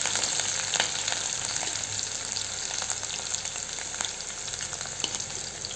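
Chopped green chillies frying in oil over a low gas flame for a Marathi val bean pods vegetable dish, a constant close sizzle with crackling pops and light stirring throughout.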